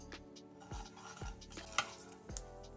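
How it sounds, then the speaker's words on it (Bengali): Black cumin seeds are stirred in a little hot oil, with several distinct scraping and clinking strokes against the pan over a faint sizzle. Two sharper metallic taps stand out near the end. "কালো জিরে নেড়ে নিয়েছি"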